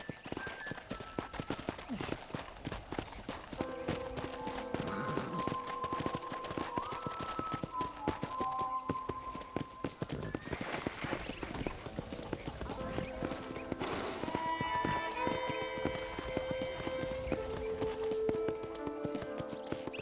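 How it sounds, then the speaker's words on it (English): Rapid hoofbeats of a horse in Red Dead Redemption gallop in a steady rhythm throughout, with game music and sound effects playing alongside. "let's see if you can still ride a horse"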